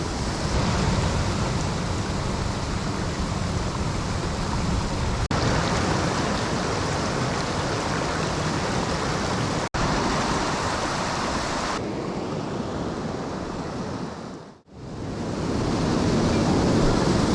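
Constant rushing of a river flowing close by, a loud, dense wash of water noise, briefly dipping near the end before surging back.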